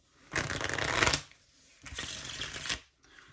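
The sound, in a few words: deck of playing cards being shuffled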